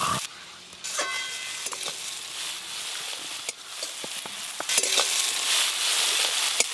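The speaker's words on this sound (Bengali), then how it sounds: "আদা জিরে শুকনো লঙ্কা বাটা দিয়ে ভালো করে আর একটু নেড়ে নেব" Ginger, cumin and dried chilli paste sizzles steadily in a pan, with intermittent scraping and clinks of a spatula as the mixture is stirred, close and fairly loud with no talking.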